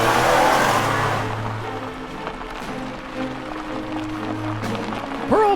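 A car rolls slowly up a driveway and comes to a stop, a low steady engine hum fading gently with tire noise and a faint squeak at the end.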